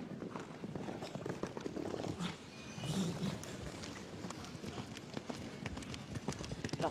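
A KWPN stallion gallops in a show jumping round, its hooves thudding in a quick irregular rhythm at moderate distance under commentators talking and crowd ambience.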